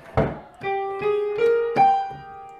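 A short piano phrase from a Final Fantasy 7 theme: a low struck note, then several sustained notes rising and ringing into each other with sustain pedal, played close and clear.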